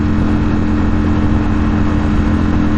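A 2021 Ducati Streetfighter V4S motorcycle engine runs with a steady, loud, close mechanical drone and a low throbbing hum that holds evenly throughout, with no voices.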